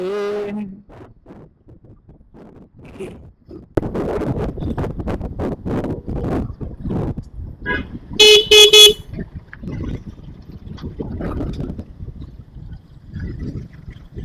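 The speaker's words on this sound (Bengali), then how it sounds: "অনেক বাইকার্স আসছে অনেক অনেক গাড়ি আসছে" Busy road traffic with many cars and motorbikes on the 300 Feet road in Purbachal, with a steady rush of passing engines and wind, and a burst of loud, repeated horn honks near the middle.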